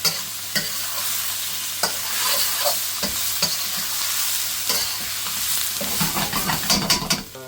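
Prawn chow mein with fresh spring onion stir-fried in a hot pan, a loud close sizzle punctuated by sharp utensil scrapes and clatters, growing busier toward the end, with no talking.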